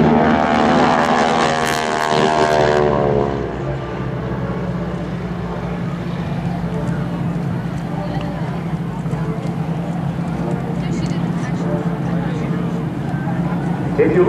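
GEICO Skytypers propeller planes at an air national guard open house airshow, flying in a vertical diamond formation: a steady droning engine roar fills the whole stretch, with a brief rising swell at the start, under continuous announcer-style talk.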